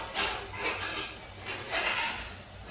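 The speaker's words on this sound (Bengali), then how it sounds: "রসুন বাটাটা আমি এর মধ্যে দিচ্ছি।" Ginger garlic paste goes into a pan of deeply browned frying onions for an apple chicken dish, with a few loud metallic scrapes and clanks of a utensil against the pan, close and without talk.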